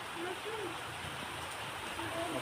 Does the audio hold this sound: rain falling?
yes